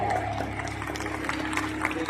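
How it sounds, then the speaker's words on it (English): An audience applauds at a first-aid competition final after a team finishes stabilizing a patient's spine, the clapping moderate and mixed with voices and background noise. "Let's give them a round of applause"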